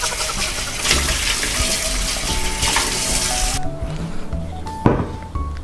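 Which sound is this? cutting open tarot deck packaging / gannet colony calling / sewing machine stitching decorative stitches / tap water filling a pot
tap water filling a pot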